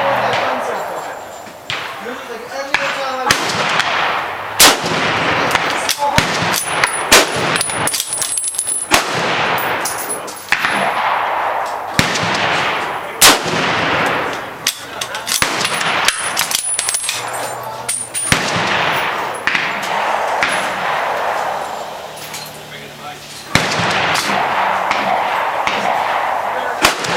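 A Springfield M1903A1 rifle fires a series of sharp, loud cracks spaced several seconds apart, mixed with bolt and handling clatter and outdoor background noise.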